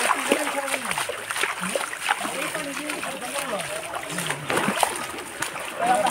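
Feet splash and slosh through a shallow rocky stream below the Rupshi waterfall in Sitakunda, with irregular splashes close by over flowing water and voices talking in the background.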